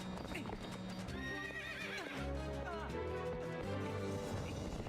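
A horse whinnies loudly with a rising, wavering call, then again, over steady clip-clopping hooves and a busy game soundtrack in The Legend of Zelda: Twilight Princess.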